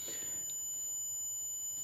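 An alarm buzzer on an industrial automation training setup sounds alongside a fan motor: a steady, faint high-pitched electronic tone held continuously over a soft background hiss.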